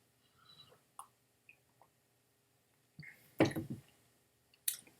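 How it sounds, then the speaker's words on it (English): A quiet sip and slurp of water, with small wet mouth clicks before and a short swallow-like sound after, in near silence. "I'm going to have a sip of water now"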